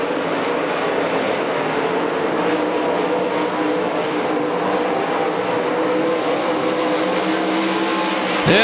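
Modified race cars battle at Knoxville Raceway, a loud, continuous roar of several engines blending together, with the pitch shifting as the pack runs down the back straightaway.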